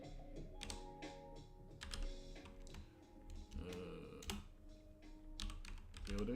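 Quick bursts of typing on a computer keyboard into a BlenderKit search, close and fairly quiet, with irregular clicks and short pauses.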